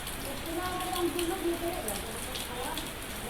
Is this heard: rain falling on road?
yes